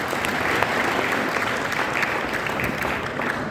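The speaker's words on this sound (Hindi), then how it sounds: "बहुत जोरदार ताली बजाइए सर के लिए।" Loud, steady applause from a crowd at an MLM training seminar, dense clapping sustained throughout without a break.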